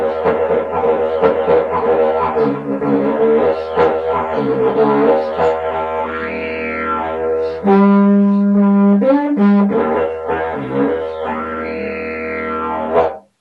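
A funnel didgeridoo plays a sustained buzzing drone with shifting, wah-like vocal sweeps, then breaks into a louder, brighter horn-like blast before returning to the droning pattern; close and loud, with no talking.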